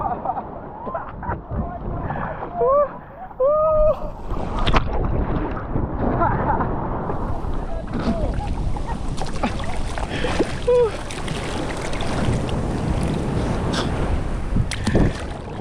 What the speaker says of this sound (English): Wow, look at the wave!